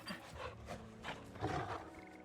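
A pet puppy in the Final Fantasy XVI video game pants in quick, rhythmic breaths, soft and close, over a low game ambience with no talking.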